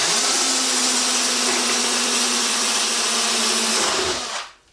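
A Porcadrill 365 diamond tip drill bit grinds into ceramic tile, a loud continuous whining drone close up that holds steady for about four seconds, then winds down abruptly.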